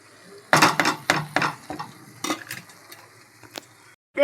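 Masala spices with chili powder and coriander powder being mixed into rice in a pan for chana masala; a close series of sharp spoon scrapes and clanks against the pan over a faint sizzle, irregular and then tapering off.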